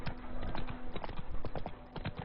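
Horse hooves clip-clop at a steady trot in the video game The Witcher 3, a run of close, moderately loud footfalls with no talk over them.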